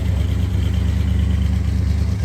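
A truck engine runs at a steady idle with a deep low rumble throughout, close and continuous, with slight fluctuations but no clear rev.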